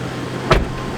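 Tesla Model X door operating, a single brief mechanical whir and soft thud standing out at mid-range against a steady low background hum, with nothing else happening before or after.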